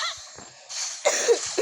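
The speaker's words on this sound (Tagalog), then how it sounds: "Kailan ba mawawala tong ubo ko?" Single person's cough during a Mobile Legends game session, two short bursts heard up close alongside background game audio.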